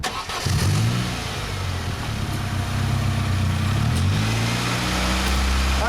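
A car engine being treated with Seafoam top engine cleaner cranks, catches and settles into a steady, rising and falling run, loud and close, with no talking.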